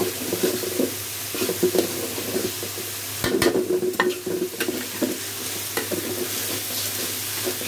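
Ginger and garlic fry for chicken curry, a bright continuous sizzle punctuated by repeated spatula scrapes and knocks against the pan, heard up close with no speech.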